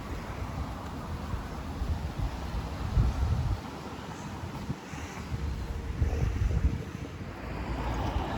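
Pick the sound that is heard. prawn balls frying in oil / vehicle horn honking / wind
wind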